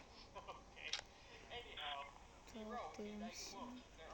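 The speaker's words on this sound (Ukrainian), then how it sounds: "тут телефон грає, грає" Inside the Five Nights at Freddy's horror video game, a telephone rings faintly, giving a series of quiet, steady electronic tones with brief clicks over a low hum.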